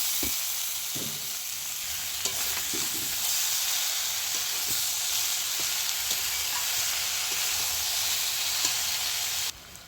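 Boiled yam stalks hiss and sizzle in a pan of hot oil with fried prawns and spices, a steady, close frying crackle with occasional clinks of stirring, no voices.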